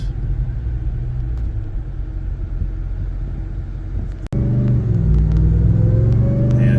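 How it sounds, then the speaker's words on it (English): A supercharged T-Rex three-wheeled vehicle drives up a road in Florida, its engine a loud, steady close rumble that briefly cuts out, then resumes with a rising drone as it accelerates. "We get the supercharged Trex up the road."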